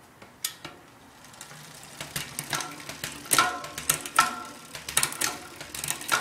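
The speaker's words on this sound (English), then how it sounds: "Now the chain seems to be moving down freely" A road bike chain clicks and rattles close up as it shifts down the rear cassette, with a series of sharp metallic ticks over a soft whir of the turning drivetrain.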